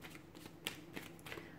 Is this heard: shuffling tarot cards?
yes